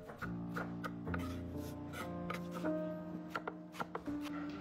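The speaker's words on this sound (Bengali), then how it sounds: "এদিকে লালচে বাঁধাকপি কুচি করে কাটছেন উনি" Red cabbage chopped finely with a knife on a board, a quick run of crisp close cutting taps with a ringing pan tone lingering underneath.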